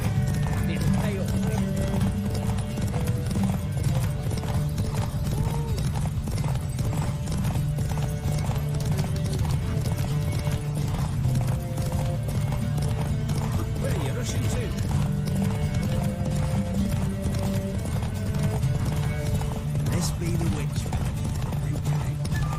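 Roach, a horse in The Witcher 3: Wild Hunt, gallops along a track with steady, continuous clip-clop hoofbeats. A brief whinny rises over a bed of game music, and a voice talks over it.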